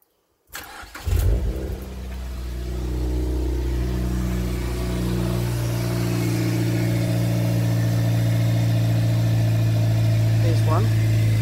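A Mazda MX-5 Miata NC catches and fires up, then settles into a steady, even idle, close by and continuous to the end.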